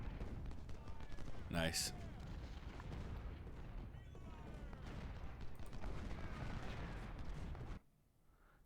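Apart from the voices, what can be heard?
24-pounder artillery fire in Ultimate General: Civil War video game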